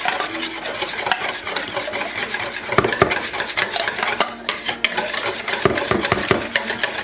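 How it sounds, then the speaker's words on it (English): Whisk scraping and rubbing around a bowl while mixing a turkey marinade, a steady busy rasp with sharper clinks and taps of metal against the bowl, close and continuous with no talking. "I'm gonna mix this up. And actually you can get more of that out because this whisk will make it smoother."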